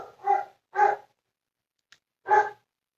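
A pet dog barks three times in a quiet indoor room, sharp loud barks spaced apart with silence between and a tiny click in the gap.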